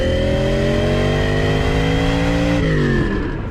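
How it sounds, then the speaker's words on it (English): Ferrari 308 V8 fitted with a cross-plane crank, revving steadily with a loud, deep, throaty rumble whose pitch climbs gradually before a shift near the end, close and continuous with no talking. "The 308 engine was given a cross-plane crank that changed the high-pitched Ferrari sound into a low rumble more suited for a sedan deluxe."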